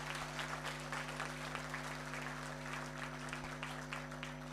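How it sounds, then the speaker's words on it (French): An audience applauds steadily at an event in Cameroon, a continuous wash of clapping from many hands heard over a low electrical hum. "Applaudissez encore pour lui"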